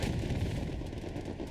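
Tank cannon fire in the Hell Let Loose war video game during a competitive match, heard as a dense, roaring blast of battle noise that stays loud and sustained throughout.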